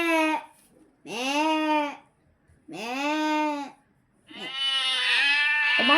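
Three long, wavering bleats in sequence with pauses between, loud and close, matching a sheep; the bleats may be a person imitating the animal as part of a game.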